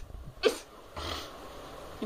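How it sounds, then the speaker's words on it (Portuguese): A single sneeze bursts out close to the microphone in a hot room with a fan running, followed by a softer breathy sound and faint background hiss. "Eu vou espirrar."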